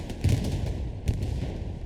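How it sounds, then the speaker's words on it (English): Explosions and gunfire during a Hell Let Loose battle, with two deep booming blasts a little under a second apart over a steady background of distant combat rumble. "Explosions from both sides."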